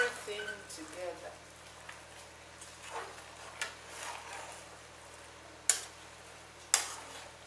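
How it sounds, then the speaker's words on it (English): Efo riro, a Nigerian vegetable stew, being stirred in a pot: faint scraping and soft sizzling with a few sharp clacks of a spoon against the pot, fairly quiet and intermittent. "are going to be turning it to mix everything together"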